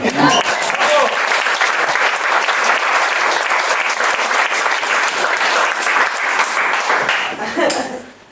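Loud, sustained applause from a crowd, steady clapping throughout that tapers off at the very end.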